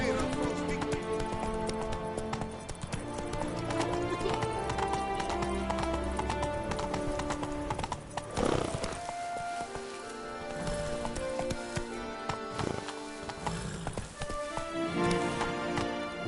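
Hoofbeats of the horse Roach clip-clop steadily through a video game scene, loud and continuous over layered game music and ambient effects, with occasional whinny-like accents.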